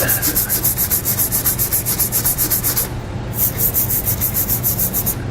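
A tube brush scrubs rapidly back and forth inside the threaded weld nuts on the frame of a 2017 GMC Acadia, a steady, close, rhythmic rasping with a brief pause midway.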